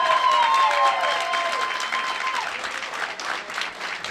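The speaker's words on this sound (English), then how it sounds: "You hear the hand clap" Spectators clapping at a collegiate golf team match-play final, a modest patter of applause outdoors that starts fuller and thins over four seconds, with faint tonal sounds and background noise underneath.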